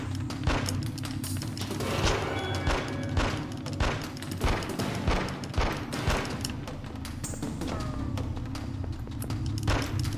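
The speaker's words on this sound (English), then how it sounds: "I have no idea if I'm shooting anyone right now." Rapid, repeated gunfire from a shooter in The X-Files: Resist or Serve, a dense run of cracks and thuds over a steady rumbling game ambience, loud and close throughout.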